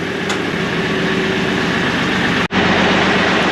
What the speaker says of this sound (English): But I got the tractor warmed up.